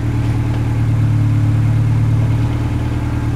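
A 1999 Acura Integra engine runs steadily up close, a loud, even idle with a constant low hum and no voices.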